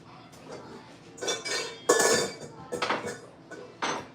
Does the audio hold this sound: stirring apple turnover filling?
yes